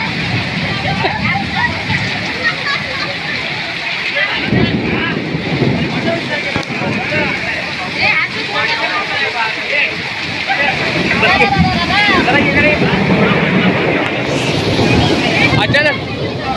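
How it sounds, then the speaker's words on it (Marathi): Heavy rain pours steadily in a Konkan village during a local puja gathering, a dense continuous wash of noise running throughout, with people talking over it. "एवढा पाऊस पडतोय"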